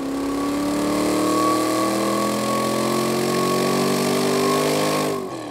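A GM small-block V8 with a modern LS top end and Cherry Bomb mufflers running hard on a dyno, a loud sustained engine roar with rising pitch before cutting off near the end.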